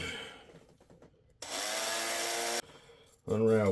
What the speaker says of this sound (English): So, drill a hole right around there.